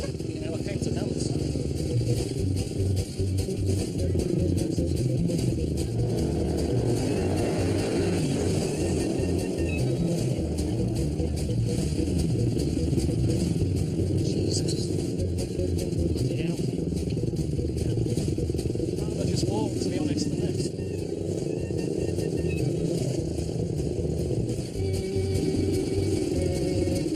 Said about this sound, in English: He's going to pick me up on his motorbike.